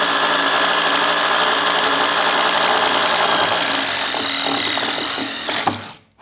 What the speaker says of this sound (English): do your best to drill that hole right there